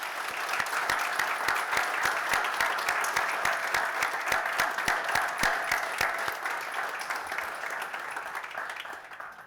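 Audience applause at the opening of a digital innovation facility, dense sustained clapping from a sizeable crowd, steady and moderately loud, tapering slightly toward the end.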